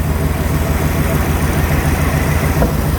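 A 1980 Dodge Aspen's slant-six engine idles steadily with a low, even rumble throughout, close by and fairly loud, with no clear changes in pitch, as it runs out of gas.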